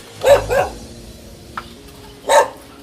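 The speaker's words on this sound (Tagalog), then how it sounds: "Ingay ng aso." Three sharp dog barks: two quick ones close together, then a pause with a faint click, and a final bark. Fairly near, no talking.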